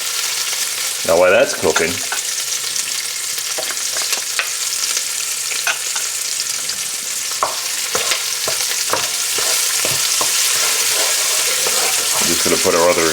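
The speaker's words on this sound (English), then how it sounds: "Stir our onion in and start to sweat those down." Onions sweating in a hot pan for chicken in vodka sauce, a steady bright sizzle running throughout with scraping stirs and occasional clinks, a voice briefly speaking over it.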